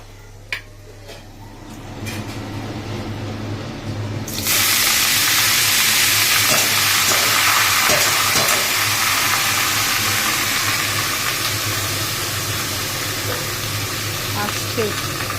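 Grated papaya topped with chillies tipped into a hot pan, a sudden loud hiss and steamy sizzle that keeps frying steadily after a quieter start, with a voice talking over it.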